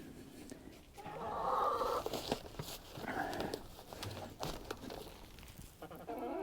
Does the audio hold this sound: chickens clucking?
yes